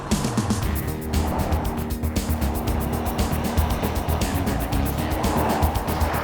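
A 2010 Cadillac CTS Sport Wagon on the move, its engine and road and tire noise steady and close throughout, with no talking.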